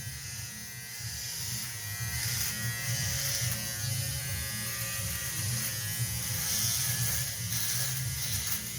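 An electric shaver trims a beard along the jawline, its steady close buzz running continuously with slight shifts in pitch as it moves across the stubble, with no talking.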